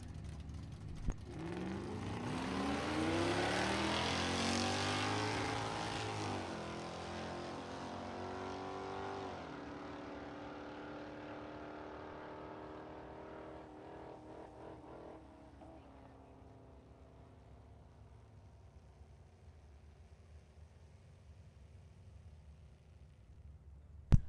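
A 1988 Chevrolet Camaro and its opponent on a bracket drag strip roar off the line, engines revving up through shifts before fading into the distance, leaving a low rumble.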